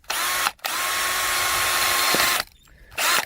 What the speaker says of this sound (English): So next we're going to drill a 3/16 inch hole